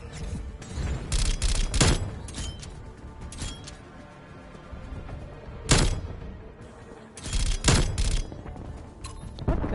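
Handgun shots crack out in a Call of Duty match, loud sharp bursts in clusters with rumbling booms and gameplay noise between them.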